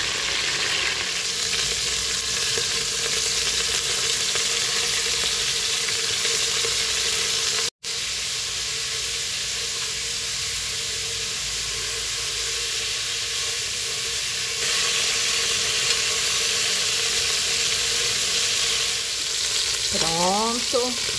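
Beef pieces sear in a hot pressure cooker pot, giving a loud, steady sizzle and crackle of frying that runs on for a long stretch with a brief cut midway.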